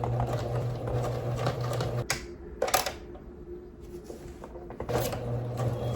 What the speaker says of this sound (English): I'm gonna like stretch it and sew it. I feel like you always use zigzag stitch for elastic